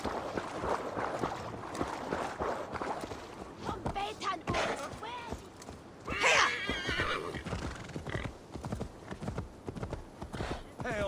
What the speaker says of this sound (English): I see my horse?